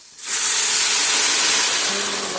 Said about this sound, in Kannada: ಆಲ್ರೆಡಿ ನಾನು ನೀರು ಬಾಯ್ಲ್ ಮಾಡಿ ಇಟ್ಕೊಂಡೀನಿ, ಅವ್ನು ಹಾಕ್ತೀನಿ ಇದಕ್ಕೆ